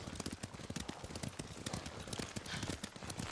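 Horses galloping in the video game Ghost of Tsushima, a rapid, continuous clatter of hoofbeats with a steady driving rhythm, fairly close and busy, no speech over it.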